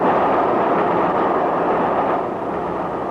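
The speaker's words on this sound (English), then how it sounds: "I say, this is a good train, isn't it? Running right on the nose." A radio drama sound effect of a train running along the rails, a steady loud rushing rumble filling the scene without pause and no one speaking.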